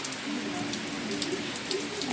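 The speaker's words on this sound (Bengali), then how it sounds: "খুব বৃষ্টি হচ্ছে।" Heavy rain pours steadily on surfaces outdoors, a dense continuous hiss with scattered drop patter, loud and close throughout with no gaps.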